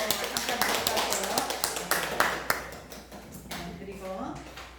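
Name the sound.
congregation applauding in welcome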